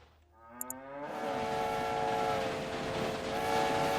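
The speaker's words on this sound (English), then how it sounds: "And that's the train that runs north to Aberdeen." A train in the railway management game Railway Empire sounds a horn, followed by a loud, sustained multi-tone whistle over a steady rumbling rail roar.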